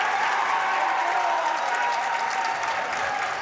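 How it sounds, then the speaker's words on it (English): Rowdy home crowd at a high school basketball game between Oak Lawn and Kenwood, a dense, sustained roar of applause and cheering filling the gym at close range without pause. "The mainly Oak Lawn dominant crowd gets rowdy here"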